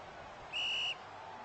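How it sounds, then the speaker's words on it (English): A referee's whistle blows once during a college football video game between USC and Baylor, a single steady blast of about half a second that rises clearly above a low, constant crowd murmur. "So the whistle is going to be blown here"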